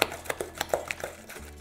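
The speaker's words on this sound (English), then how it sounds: "now I'm going to use some elbow grease and mix it all up" Butter and sugar being mixed by hand in a bowl for chocolate chip cookie dough, giving a series of soft, irregular scraping and tapping clicks close by, with no talking.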